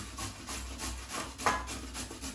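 Food being washed gets scrubbed by hand in quick, rhythmic rubbing strokes, quiet and close, with one sharper scrape midway.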